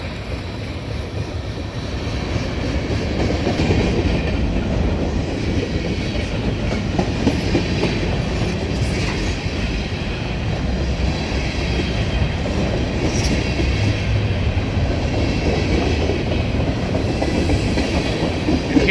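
A westbound Norfolk Southern freight train with tanker cars rolls past near a grade crossing at Seven Mile, Ohio, a loud, steady rumble with rhythmic wheel clatter that keeps going for the whole passage.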